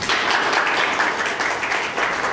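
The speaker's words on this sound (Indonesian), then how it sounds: "Tepuk tangan dulu nak." A classroom of students in an Indonesian history lesson applauding together, a steady moderate wash of many small hands clapping without talk.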